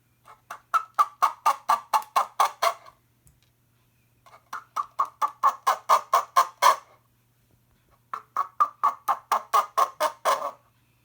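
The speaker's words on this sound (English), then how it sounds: "sounds just like a duck" A homemade duck noisemaker, wetted with water, gives three bursts of rapid, nasal quacking, each a run of about a dozen quacks, separated by short silences; loud and close with no talking.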